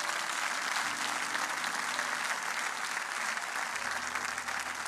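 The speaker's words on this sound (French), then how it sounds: "On peut les acclamer, s'il vous plaît." A church congregation applauds the singers in sustained, even applause that fills the room, fairly loud and continuous with a low hum beneath.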